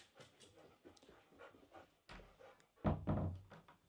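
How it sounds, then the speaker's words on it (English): A dog pants quickly and rhythmically close by, with a soft thump partway through and faint background sounds, with no talk over it. "I've got a dog here."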